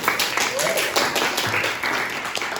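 A classroom audience claps for a student group after its presentation, with a short burst of moderately loud, uneven claps mixed with a voice and room murmur.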